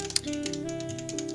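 A few light keyboard clicks tap irregularly against a steady musical backing, with one sharper keystroke near the start.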